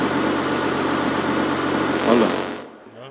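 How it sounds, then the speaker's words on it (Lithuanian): A car engine idles steadily with a low rumbling hum, rising briefly near the end before cutting off abruptly, leaving near silence. "Gesink nahui to motoro"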